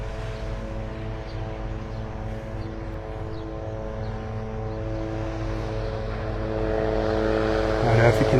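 A steady, droning helicopter rotor hum over Vanderbilt Beach in North Naples, Florida, with a pulsing low tone that swells louder near the end as it draws closer, with voices talking over it.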